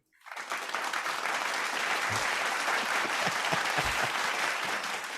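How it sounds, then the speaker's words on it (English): A canned applause sound effect swells up suddenly and holds as a loud, dense roar of many clapping hands for about five seconds, with no voices. "You like my claps in a box, bro? Those weren't real people."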